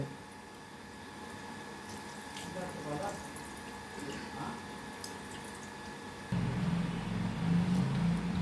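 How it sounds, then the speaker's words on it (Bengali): Water from boiled bottle gourd pours through a strainer net, a soft trickle and drip that swells into a louder, fuller splashing stream near the end. "এই যে এটাকে আমি একটু নেটে করে জলটা গেলে দেব।"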